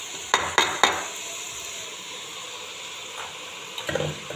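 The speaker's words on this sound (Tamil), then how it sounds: "இப்போ வடித்து வச்ச அரிசியை போடுறோம்." Cooked rice tipped into a cooking pan, with a few sharp clinks of a utensil against the metal, then soft scraping and light sizzling as it is stirred, close and moderately quiet.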